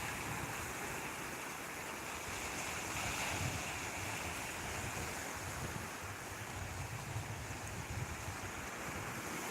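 Sea water crashes against coral rocks at Pantai Kasih, Sabang, as a continuous, rushing surf wash with wind noise and no speech.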